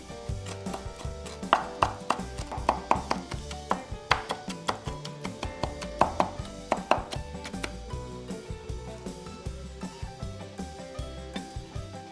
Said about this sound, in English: So I just put them on the cutting board and then chop them up.